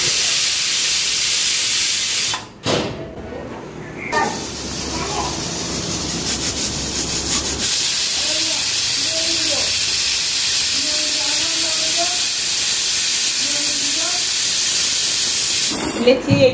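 A pressure cooker on the stove steaming prawns in bottle gourd leaves gives off a loud, steady, continuous hiss with brief dips and a short break, running nearly uninterrupted throughout.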